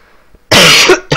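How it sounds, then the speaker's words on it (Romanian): Someone coughs once sharply and loudly at close range, a harsh burst lasting about half a second, followed by a short second cough after a quiet moment. "Tot pe rând, frate, cu tușitul."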